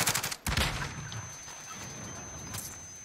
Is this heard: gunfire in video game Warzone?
yes